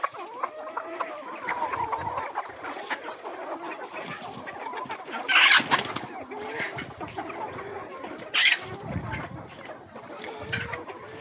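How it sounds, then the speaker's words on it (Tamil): Siruvidai native-breed mother hens cluck and murmur close by in a busy run of soft, overlapping calls, with two sharper, louder squawks rising above the flock. "சிறுவிட தாய்க்கோழிகள்."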